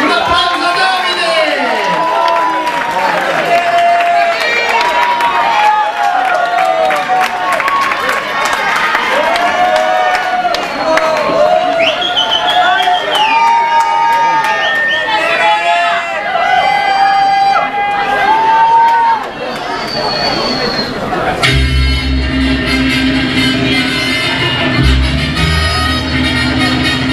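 Audience cheering and applauding for Davide at a live show, a loud crowd roar with whoops and shouts, then music cuts in near the end.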